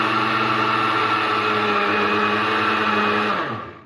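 A kitchen blender whirs loudly and evenly as it mixes milk, starch and sugar for a dessert, then winds down and cuts out at the end.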